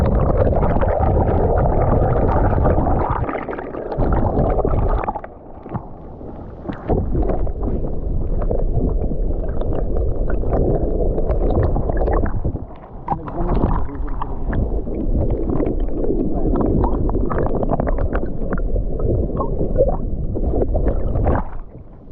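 With the camera dipped underwater in a small stream, the sound turns muffled and heavy, a continuous dull rumbling wash of moving water with the highs cut away and occasional brief thumps and dropouts.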